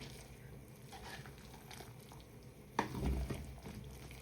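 A spoon stirs cooked rice with coconut milk in a pot, soft sloshing and scraping over a low simmer, quiet throughout with one brief clunk of the utensil near the end.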